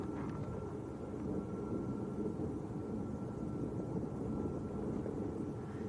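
A TUI airliner at Lanzarote Arrecife airport gives off a steady low engine roar that holds evenly throughout, broad and rumbling at a moderate distance, with no talking.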